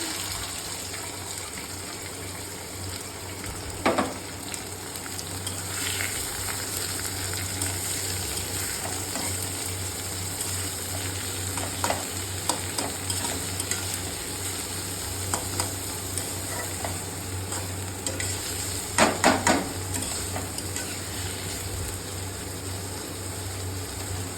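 Chopped tomato, onion and garlic with a bay leaf frying in oil for a potato, pointed gourd and paneer dish, a steady close sizzle with occasional sharper crackles and stirring scrapes, no talking.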